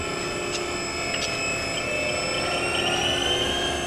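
Haas VF-2B CNC mill with its spindle running at 3,500 RPM, a steady high whine with layered tones holding throughout, fairly quiet and alone.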